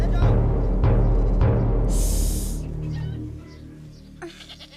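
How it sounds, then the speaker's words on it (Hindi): A goat bleats amid a dubbed Hindi film scene, with wavering calls over a dense music-and-effects bed before things quiet down. "बकरी की आवाज थी वो।"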